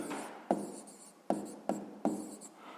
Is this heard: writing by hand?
yes